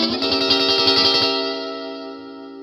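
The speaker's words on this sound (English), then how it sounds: "diminished 7th or double flat 7. And this chord is super tense." A diminished seventh chord on an effects-laden electric instrument, struck once with a brief tremolo-like flutter, then ringing and slowly fading alone.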